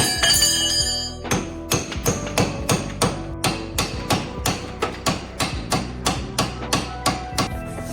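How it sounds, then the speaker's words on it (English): A hammer strikes metal over and over in a steady, fast rhythm during a solid axle swap on a GMC Safari van. Each blow is loud and ringing, with a clanging echo after it. "every time I hit something with a hammer"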